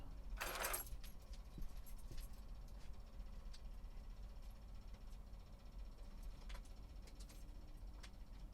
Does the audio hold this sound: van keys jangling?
yes